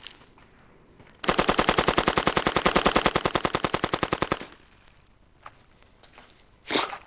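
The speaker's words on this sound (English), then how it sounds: "if I put it into automatic, turn it into a machine gun, well, let's see if I could hit that van" An automatic rifle fires in machine-gun mode at a van about 50 feet away, unleashing one loud, rapid burst of evenly spaced shots that lasts about three seconds and then stops, leaving a few faint clicks.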